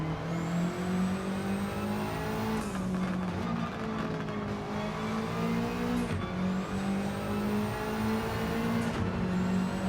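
A race car engine in Gran Turismo 7 drones steadily through a time-trial lap, its pitch climbing and dropping sharply with gear shifts, loud and continuous with no voices over it.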